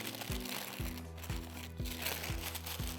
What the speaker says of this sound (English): Wrap that in the aluminum and the little wax paper.